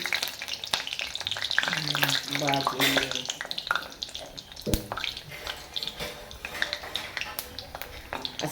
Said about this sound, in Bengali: দেখুন আমি কড়াতে একটা কচুরি দিয়ে দিয়েছি